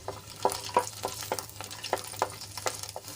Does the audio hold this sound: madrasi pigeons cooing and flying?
no